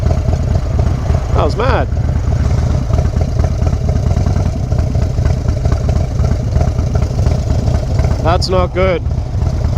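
A motorcycle engine idles with a steady, loud, low rumble through the whole clip, while a voice talks over it in short bursts.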